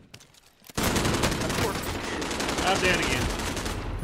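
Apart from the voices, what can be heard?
gunfire in a video game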